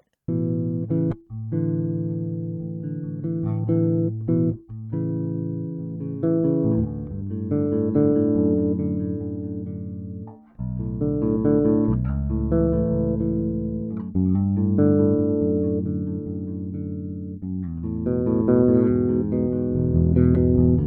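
A bass guitar plays a slow sequence of chords, each ringing out with clear harmonic tones and short gaps between changes, close and solo, with no effect pedals.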